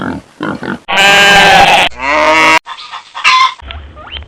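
Two young piglets in a farm pen on a small pig farm, loud close squeals and grunts in several sharp bursts with short pauses between them.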